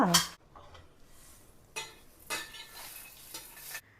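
Dried red chillies and jaggery dry-roast in a pan for sambar powder, with a short burst of scraping at the start, then quiet, faint stirring and a few soft scrapes.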